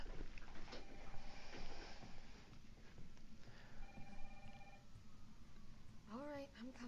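A telephone rings in Resident Evil 3 Remake, a few electronic rings over dim room ambience with footsteps and movement, the last ring clearer and closer.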